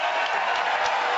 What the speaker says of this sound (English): Clap. We got to hear you.